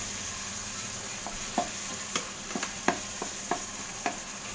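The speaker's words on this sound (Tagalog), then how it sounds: "Pwede na natin ilagay yung baka. Giniling na baka, ayan. Igisa lang natin siya." Ground beef sautéing in a pan for a menudo-style dish, with a steady low sizzle broken by scattered stirring scrapes and clicks, close and moderately quiet.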